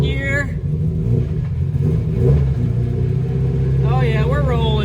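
Turbocharged Mazda Miata engine pulling away in first gear, a steady mid-pitched engine drone with a brief swell in revs, heard under someone talking.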